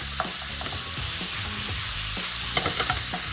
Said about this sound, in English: Break it up like that really helps to sort of separate it so you can fry it off with a lot of colour.